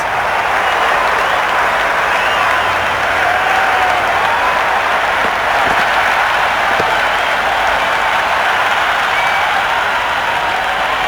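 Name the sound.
cricket crowd cheering and applauding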